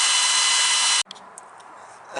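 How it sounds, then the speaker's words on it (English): A power drill bores a hole into a stuck part on a Model T Ford: a steady, loud, high whining motor buzz for about a second, then it cuts off abruptly, leaving faint clicks and tool handling noises. "I'm going to have to drill a hole and use a screw extractor to get it out"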